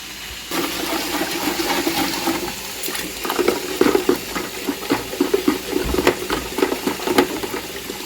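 Borewell water rushing and splashing steadily through a purifying filter, with irregular gurgling surges and knocks; loud and close, no voices.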